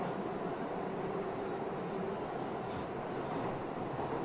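Steady rumble and rattle of a train running over its tracks in the video game Panzermadels, a continuous dense clatter without distinct beats, fairly close and even in loudness throughout.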